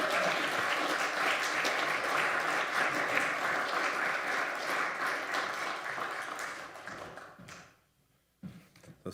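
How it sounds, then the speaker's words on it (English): A church congregation at a Sunday service applauds in sustained, even clapping that fades out near the end, leaving a brief near-silence before a few small knocks. "Let's show our appreciation with a round of applause."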